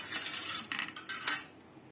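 Spoon stirring raw mango ice cream mixture with food colouring in a bowl, close scraping and clinking strokes in quick succession, ending abruptly, no talking.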